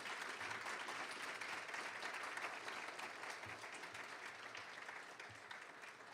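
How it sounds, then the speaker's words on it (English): Audience applause for students at a school board meeting, a steady wash of many hands clapping that holds for several seconds and slowly fades, fairly faint and even, with no one talking over it. "can we give these students a round of applause for all their hard work?"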